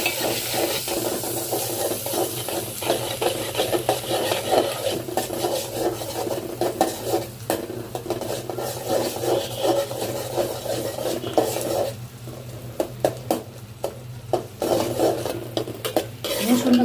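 Chopped garlic fries in a pan of oil and butter, giving a steady close-up sizzle with scraping and stirring sounds from a utensil throughout.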